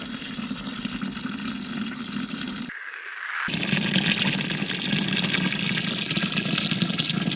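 Water gushes steadily into a bag for a DIY bush washing machine, pausing briefly before the flow resumes louder and fuller.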